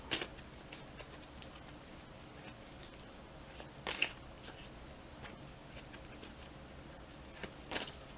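Quiet riffling of playing cards, a few brief crisp bursts separated by near silence, close by and soft.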